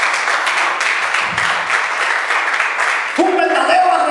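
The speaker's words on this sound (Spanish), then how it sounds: "Den un aplauso a Cristo." A church congregation applauds for Christ in a dense, even wash of clapping, then a voice starts speaking over it near the end.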